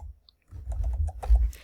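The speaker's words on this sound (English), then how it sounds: "You don't have to, just start typing." Typing on a computer keyboard while composing an email in Outlook, a quick run of soft, close key clicks after a brief pause, with no talking.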